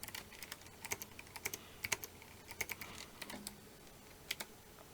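Rapid, uneven keystrokes on a computer keyboard while entering commands in MATLAB, sharp clicking taps in short bursts, close and fairly quiet, with no voices.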